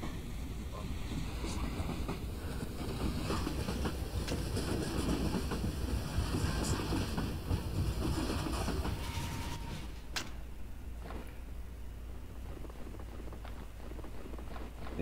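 A train rolling along rails in Garry's Mod, a steady dense rumble with faint rhythmic clatter running continuously throughout, fairly loud and unaccompanied by speech.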